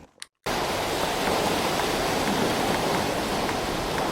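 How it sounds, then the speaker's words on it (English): Steady, dense roar of sea waves used as an ambient sound effect, starting abruptly after a brief quiet moment and continuing loud and unbroken like constant surf. "And then we're gonna bring in some sea waves."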